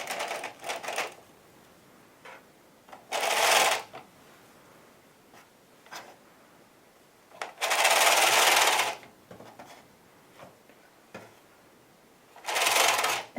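Knitting machine carriage pushed across a row of white yarn, loud rattling sweeps of a second or so separated by quiet pauses and small clicks.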